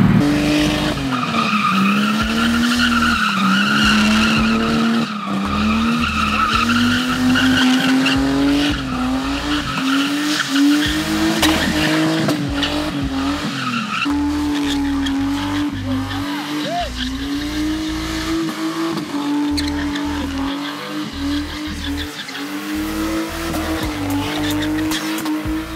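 A car drifting during a drift-league training session, with long, loud tire squeal and a revving engine rising and falling continuously for the whole stretch and no talking.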